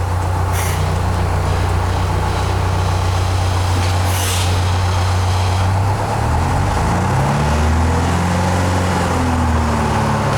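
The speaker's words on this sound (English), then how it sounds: "What was that? Air brakes." An antique bus idles with a loud, steady low engine drone, and sharp bursts of hissing air brakes break through twice, with shifting engine tones late on.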